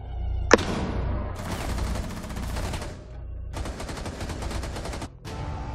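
Gunfire in Rainbow Six Siege, with a sharp single shot followed by two long, loud bursts of rapid automatic fire separated by a short pause, and another burst starting at the end.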